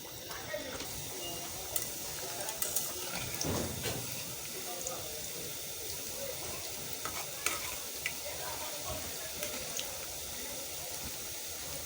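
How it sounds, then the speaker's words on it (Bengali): Food deep-frying fully submerged in oil in a kadai, the oil not yet fully hot, gives a steady low bubbling sizzle with faint stirring clinks over continuous background noise. "এগুলো কিন্তু সম্পূর্ণটা ডুবো তেলেই ভাজতে হবে।"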